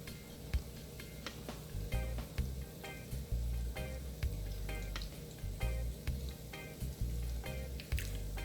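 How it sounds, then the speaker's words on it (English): Cheese sticks fry in hot oil with a low bubbling sizzle broken by frequent sharp pops and crackles, close and moderately quiet, and no voices over it. "Keep a close eye on the cheese sticks. You don't want to walk away because they cook very quickly."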